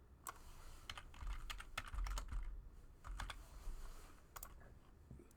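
Soft keystrokes tap out numbers on a computer keyboard during Python coding, in a steady run of quick, close presses with brief pauses.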